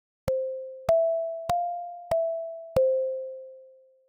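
Default instrument preset of the Anakari synthesizer: five plain, steady electronic tones struck about every 0.6 seconds, each starting sharply and fading slowly, the pitch shifting slightly between notes and the last one ringing out alone.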